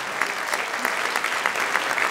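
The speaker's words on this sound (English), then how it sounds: "How about one more round of applause for the, we have a parent volunteer, Mrs. Commissar" Audience at a winter band concert giving a steady round of applause, dense even clapping from a crowd throughout, with no voices.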